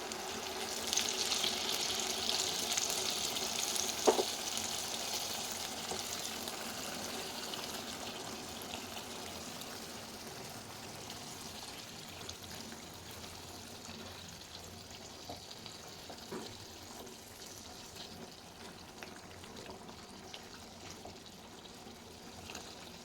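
About a cup of water is poured into spiced chicken roast frying in oil, making a brief rushing splash at the start that settles into a softer, steady sizzle and bubbling that fades gradually.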